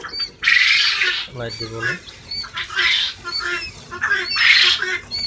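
Four-day-old quail chicks in a brooder calling in dense bursts of high, shrill cheeping that rise and fall, with someone speaking briefly over them.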